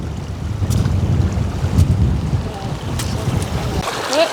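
Wind buffets the microphone in a steady, loud low rumble that lasts throughout, with faint rushing creek water somewhere behind it, on the Devil's Staircase in the Grand Tetons.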